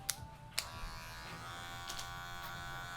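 Electric hair clippers buzz steadily while cutting a taper, a thin continuous hum with a few sharp clicks and brief contact bursts, close but fairly quiet.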